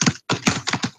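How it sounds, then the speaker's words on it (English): A typewriter being typed on in a room, with rapid, crisp mechanical key strikes in quick bursts separated by a brief pause, close and loud. "That sounds like a typewriter."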